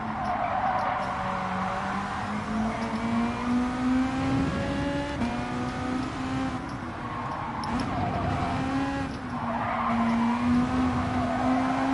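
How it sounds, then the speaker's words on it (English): Race cars in Gran Turismo 7 weave side to side to warm their tires, engines droning steadily with pitch rising and falling, mixed with tire squeal across a continuous close-up roar. "Some people having a professional wiggle to warm up their tires."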